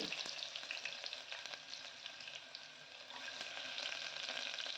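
Lentils frying in hot oil in a pan until roasted, as the base for an okra curry: a soft, steady crackling sizzle with occasional stirring and no talk.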